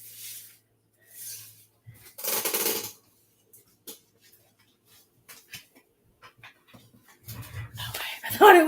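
A dog pants and whimpers in short bursts near the microphone indoors, with quiet gaps between, then a louder flurry of breathy panting and whining at the end.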